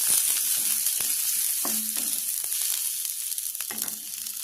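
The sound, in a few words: shallots and garlic frying in a pan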